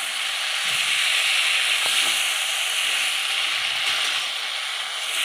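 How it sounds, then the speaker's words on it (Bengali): Eggplant frying with spices in a pan for a vegetarian curry, giving a steady, close, loud sizzle with occasional soft scrapes of stirring throughout. "বেগুন দিয়ে এবার নাড়িয়ে নিচ্ছে"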